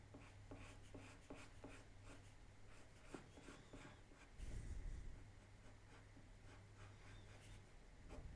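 Pen drawing on paper at close range and low level, with short rapid scratchy strokes at first, then a brief rubbing rustle and quieter steady drawing.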